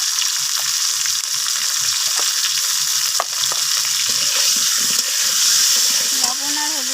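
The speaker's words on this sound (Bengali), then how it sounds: "লবণ আর হলুদটাকে দিয়ে ফুলকপিটাকে আমি লালচে করে এখানে ভেজে নেব।" Cauliflower with salt and turmeric frying in a pan makes a loud, constant sizzle, with a few light knocks and a short faint tonal sound near the end.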